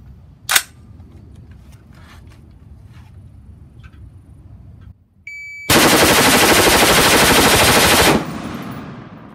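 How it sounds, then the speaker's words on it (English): A 30-round fully automatic burst from a rifle fitted with a Surefire Optimized Bolt Carrier Group, a loud continuous roar of rapid fire lasting a few seconds after a sharp single shot and quieter clicks, then ringing off. "we're going to fire a 30-round burst with the Surefire Optimized Bolt Carrier Group"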